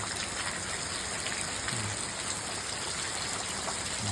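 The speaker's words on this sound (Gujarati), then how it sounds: "બાકી વરસાદ તો હજી ચાલુ જ છે" Heavy rain pours down steadily over a village in Botad, a continuous dense hiss with no breaks or voices, heard at a moderate distance.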